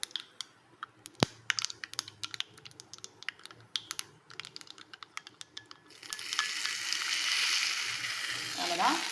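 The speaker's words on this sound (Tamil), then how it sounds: "இந்த தாளிப்பை அப்படியே இதில் சேர்த்துடலாம்." Mustard seed tempering added to ground chutney made with asafoetida, salt and tamarind: scattered sharp crackling pops, then a loud, steady frying hiss that swells in and holds close up for the last few seconds.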